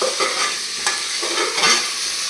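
Snake gourd being stirred and sautéed in a pan for sambar, with a steady soft sizzle and scraping stir strokes, close and moderately loud, with no talking.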